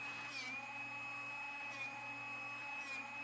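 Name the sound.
Drill Doctor 350X drill bit sharpener running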